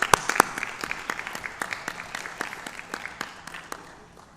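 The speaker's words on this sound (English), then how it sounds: "we have one more round of applause for all of our academic winners this evening" A modest round of applause at a Board of Education meeting for academic winners: scattered, distinct handclaps from a smallish group, with a few sharp, loud claps early, then lighter, irregular clapping that slowly tapers.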